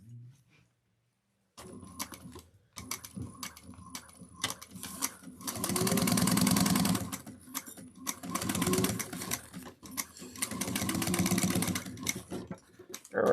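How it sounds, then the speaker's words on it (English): A sewing machine stitches a narrow 1/8-inch seam on a small coffin-shaped wallet bag, running in several sustained loud bursts with short pauses between, close and alone without talk. "you're going to machine stitch it using a 1/8 of an inch seam allowance"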